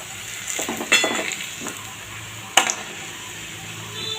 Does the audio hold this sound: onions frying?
yes